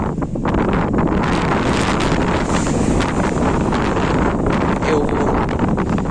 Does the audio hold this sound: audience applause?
no